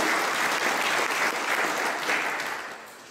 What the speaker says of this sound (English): I want us to give her a hand,